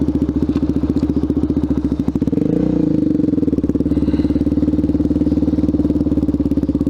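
A motorcycle engine idles close by with a steady, low throbbing rumble, a dull thump around the two-second mark, then a slightly fuller, even running note to the end; no one speaks.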